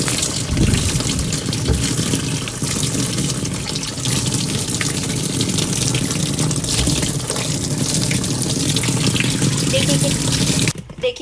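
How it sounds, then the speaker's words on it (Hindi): Tap water runs steadily into a washing machine drum being rinsed clean, a loud, continuous broadband rush that holds for about eleven seconds before cutting off at the end. "थोड़ा सा पानी चला देते हैं और साफ करते हैं"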